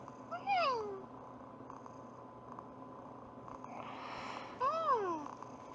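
The cat in the Talking Angela game purrs softly while being petted. Two short rising and falling meow-like calls come near the start and the end, heard against quiet game background sounds.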